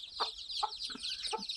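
A mother hen gives four short, soft clucks, evenly spaced, while her newly hatched chicks peep continuously in a high, busy chorus right alongside.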